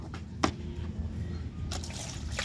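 Water pours and trickles out while a muddy motorcycle part is washed, a loose splashing flow with a few sharper drips and knocks, close by and moderately loud.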